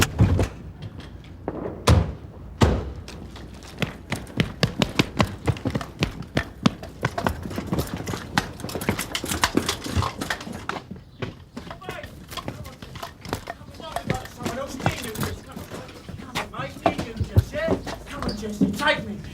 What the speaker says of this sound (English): It's the rear door.